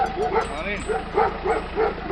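A dog barks and yips in a rapid, repeated series, fairly close, with people talking over it.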